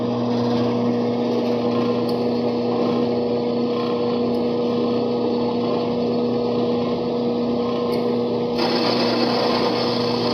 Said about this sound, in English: press the green button to turn the machine on. Move the blade slowly into engagement.